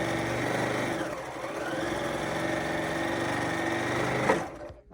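Close and loud, a sewing machine runs continuously as it joins Santa pot holder fabric pieces with a quarter-inch seam, its whirring buzz holding steady for several seconds before stopping abruptly at the end.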